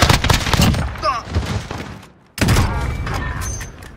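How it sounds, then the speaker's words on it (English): Modern gunfire sound effects of the kind used in film and video games: a dense burst of loud, overlapping shots and impacts, a near-silent gap, then a second heavy volley of rapid fire. "These guns sound great."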